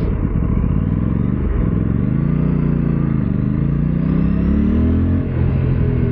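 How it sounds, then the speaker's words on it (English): Parallel-twin engine of an Aprilia RS 457 motorcycle idles and blips up close, a loud, throbbing rumble with shifting revs and clattery vibration, no talk over it. "given this is a parallel twin, expect vibrations even at lower RPMs"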